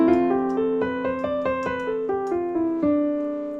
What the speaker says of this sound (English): Dorian sounds like this.